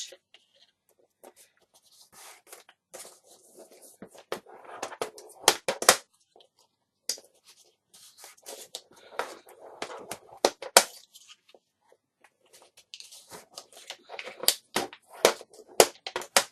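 Scored card being folded by hand for a craft beach hut model: bursts of crisp creasing, rustling and tapping come in irregular clusters, close and fairly quiet, with no talking.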